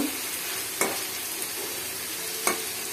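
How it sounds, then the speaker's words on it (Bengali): A pan of potato and eggplant sizzles steadily as water goes in, a bright continuous hiss with two sharp clinks from utensils against the pan, near and alone with no voices. "এবার একটু পানি দিয়ে দেব।"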